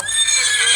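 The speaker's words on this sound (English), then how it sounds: "we got the horse neighing away" Toy farm playset plays a horse neighing sound effect, a single bright, loud whinny with a sustained high tone, close and alone with no talk.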